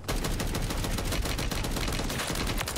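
A JAK Thunder LMG kit firing in Modern Warfare 3 Zombies, a continuous, loud, rapid burst of machine-gun fire with evenly spaced shots.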